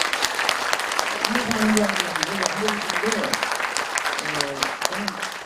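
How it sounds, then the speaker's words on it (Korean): An audience at a poetry lecture claps steadily for several seconds, a dense spread of hand claps filling the room while a voice talks over the applause. "박수 한번 하시고요."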